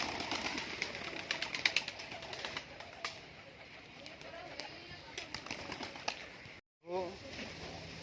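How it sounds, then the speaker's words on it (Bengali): Pigeons in a loft, including black and white Lotan pigeons, coo softly and flap their wings now and then. The sounds are faint and mixed with indistinct background voices, with a short silent gap near the end. "এখানে বিভিন্ন রকম পায়রা রয়েছে, কালো লটন আছে, সাদা লটন আছে"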